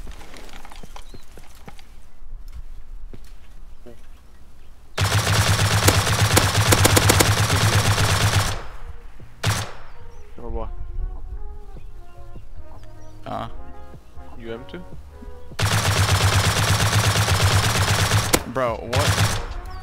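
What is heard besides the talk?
silenced M2 gunfire in the video game Rust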